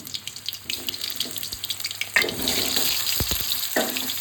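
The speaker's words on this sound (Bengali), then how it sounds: "আর আলুগুলো সেদ্ধ আলুগুলো আমি একটু ভেজে নেবো, হালকা হালকা করে ভেজে নেবো" Boiled potatoes hit hot sunflower oil in a pan and fry with a sudden loud hissing sizzle that holds steady, following a few soft clatters of handling.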